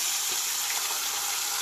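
Fish drops into hot oil and fries with a brief, steady, close-up sizzling hiss.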